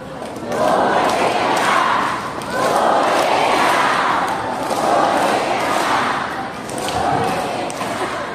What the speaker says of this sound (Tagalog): Yung taong bayan na sumisigaw na, bumalik ka na